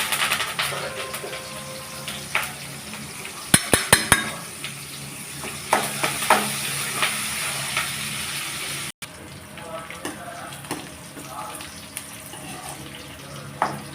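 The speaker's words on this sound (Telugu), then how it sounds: "ఇంకా ఎరగడ్డలు వచ్చి కొద్దిసేపు వేగాలి" Onions and curry leaves fry in a pan with a steady soft sizzle, joined by a few sharp clinks and stirring scrapes of a utensil against the pan.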